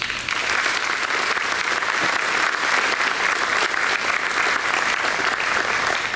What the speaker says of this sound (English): I ask that you acknowledge his commitment and his accomplishments with your applause.